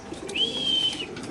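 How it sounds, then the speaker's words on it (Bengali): A maxi racer pigeon gives a single soft, close coo lasting about a second, over faint background noise with no talk. "খুব সুন্দর একটা মাক্সি রেসার কবুতর"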